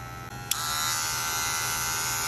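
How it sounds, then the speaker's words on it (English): Magic Clip hair clippers buzzing loudly and steadily up close, a brief click near the start as the motor kicks up to full, high whining hum running alone without talk. "clippers over time get louder, and these are my regular Magic clips"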